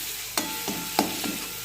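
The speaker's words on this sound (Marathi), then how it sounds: "छानसं त्याला फ्राय करून द्यायचं। तेल सुटूपर्यंत आपण त्याला छान फ्राय करणार आहोत।" Ground spice paste frying in oil for a drumstick vegetable curry, a low steady sizzle broken by a few sharp scraping strokes of a spoon against the pan, close and fairly quiet, with no voices.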